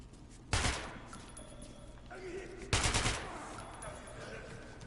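Enemy gunfire in the video game Metro Last Light comes as two loud, sharp rapid bursts about two seconds apart, over a steady background of game ambience.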